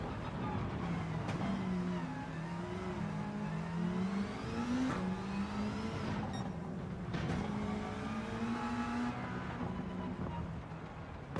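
Subaru Impreza WRX STI engine in the Gran Turismo 7 racing game, revving and shifting through gears in rising and falling whines across the lap, steady and close.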